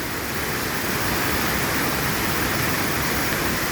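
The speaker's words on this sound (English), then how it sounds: "Hope you enjoyed the roaring Santa Ana River." A flooded Santa Ana River roars during a California storm, water surging over a submerged golf course in a dense, steady rush of broadband noise, loud and continuous with no voices.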